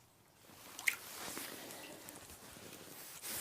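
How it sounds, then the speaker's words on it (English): Leather soaks in hot water with soft, faint wet squishes and a brief drip, close and quiet, with light handling noises and no talk. "Put it in this hot water for a second."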